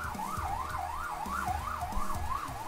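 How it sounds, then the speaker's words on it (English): Emergency vehicle sirens wail outside in a repeating up-and-down sweep, rising and falling several times over a low rumble of traffic, fairly loud and steady with no talking. "Yeah, there's a lot of sirens outside."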